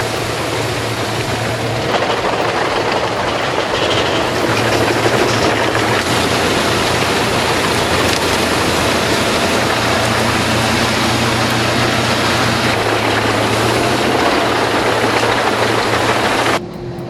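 A Diamant 2000 industrial metal-recycling shredder runs loud and continuous, a dense mechanical roar with heavy rumble and grinding that holds steady for the whole stretch and drops off at the very end. Nobody talks.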